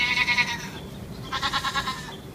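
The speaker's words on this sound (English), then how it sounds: "if you've ever been around goats or read about goats, you know they bleat" A goat bleats twice in quick succession, each call a wavering, pulsing cry, loud and close, with no talk over it.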